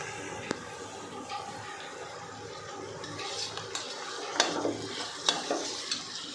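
Ingredients for khichdi get stirred in hot oil, a soft continuous sizzle broken by sharp clinks of a spoon on the pot and scraping strokes, growing busier toward the end.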